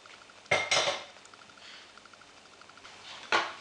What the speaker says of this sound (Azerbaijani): qaz sobasının üzərindən kənara çəkirəm